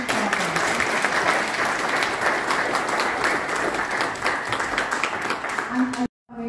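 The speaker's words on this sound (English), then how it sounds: "please, a big round of applause for our amazing partners" An audience at a community iftar gathering at a mosque claps for the event partners, a steady dense applause sustained for several seconds before cutting off abruptly, with a voice briefly audible.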